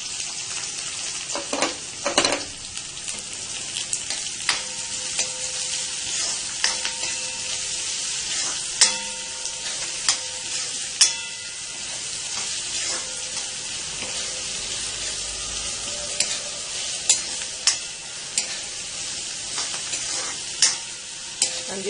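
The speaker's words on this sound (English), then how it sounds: "And this I will saute till it becomes translucent." Onions sautéing in a pan for vegetable pasta, a steady near hiss of frying punctuated by sharp spatula scrapes and taps against the metal, with no speech throughout.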